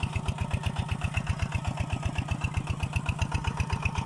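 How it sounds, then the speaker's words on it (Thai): A walk-behind tractor's small engine runs steadily in a cassava field, a rapid, even chugging throb that stays close and constant with no talk over it. "ใช้รถ ไถนาเดินตามครับ"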